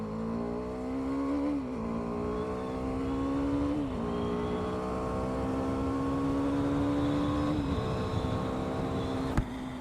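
BMW G310R motorcycle accelerating through the gears, a single-cylinder engine whine rising in pitch in several pulls with brief dips at each shift, ending with a sharp knock.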